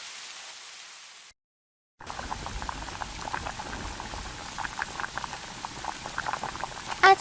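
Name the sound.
khichuri boiling in a pot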